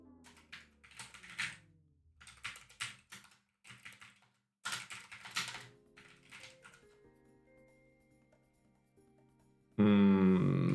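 Computer keyboard typing while writing F# code, in quick bursts of clattering keystrokes with pauses between them, close and fairly quiet, ending in a brief louder noise.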